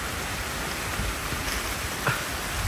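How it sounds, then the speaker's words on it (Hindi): Leaves rustling in a jungle camp forest, a steady dense patter much like rain falling, continuous and moderately loud with a few brief louder crackles, no talking. "सिर्फ एक बार साउंड सुनो पत्ते का"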